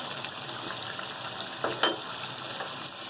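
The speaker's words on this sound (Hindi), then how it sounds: "1 चम्मच जीरा डालेंगे सफ़ेद वाला" A spoonful of white cumin seeds crackles and sizzles in hot oil, with a steady frying hiss and a few sharper pops near the middle, close and moderately loud, without speech.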